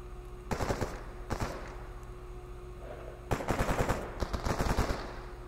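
Bursts of automatic gunfire in the video game Stalker Anomaly, four or five sharp rattling volleys separated by brief pauses, with a steady background hum.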